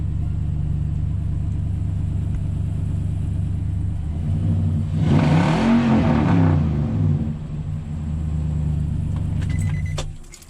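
A car engine, the fifth one started in a row, idles with a low steady hum, then revs up sharply in the middle before settling back to an even idle, heard close and alone.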